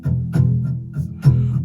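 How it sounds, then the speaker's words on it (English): Acoustic guitar strumming from the Native Instruments Strummed Acoustic plugin plays as a quick rhythmic pattern of bright strums over a sustained chord, close and fairly loud. "I use a plugin from Native Instruments called Strummed Acoustic"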